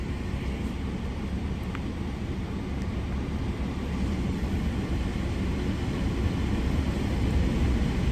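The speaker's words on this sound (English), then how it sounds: "I'm sorry, y'all, if y'all hear that AC." A truck's air conditioning blows on high, a steady, broadband rushing hiss that holds at an even level throughout, with no talking over it.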